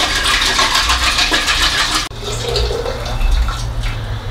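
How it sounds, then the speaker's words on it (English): Filtered milk is poured out of a milking machine bucket as a loud, continuous splashing gush, close by, with a brief break midway before the flow settles into a lower, steadier pour. "And then I just pour out my milk."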